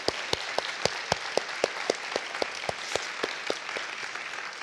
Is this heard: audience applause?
yes